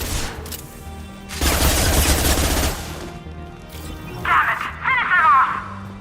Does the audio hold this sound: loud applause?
no